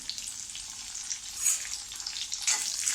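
Five hot green chillies sauté in a pan over low gas for potato bhaji, giving a steady, bright sizzle that swells briefly at moments, with no voices.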